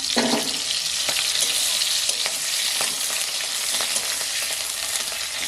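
Large whole onions frying in hot oil for a Bengali egg curry hiss continuously and loudly, broken by soft scraping strokes as they are stirred around the pan, with no talking.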